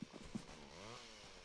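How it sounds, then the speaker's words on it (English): Faint, steady buzzing chainsaw drone in the Petz 4 video game, with a short ramp up and then a low continuous whine. "Why do I hear a chainsaw?"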